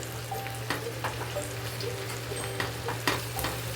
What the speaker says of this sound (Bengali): ভালো করে ফ্রাই করে নিতে হবে এভাবে করে